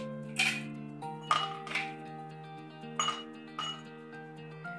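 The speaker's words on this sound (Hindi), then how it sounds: "तो अब पहले हम डालेंगे अपने ग्लास में आइस क्यूब्स" Ice cubes clink into a drinking glass in a few separate bright hits, close and clear over a steady background hum, while preparing chilled almond sharbat for an iftar.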